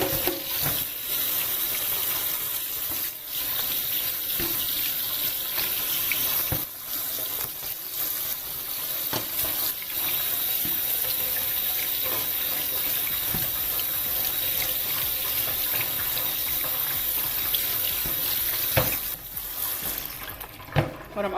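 Cold tap water runs steadily over cooked pasta in a strainer in a home kitchen, a continuous close splashing rush with small shifts in tone as the noodles are moved, lasting the whole stretch without talk.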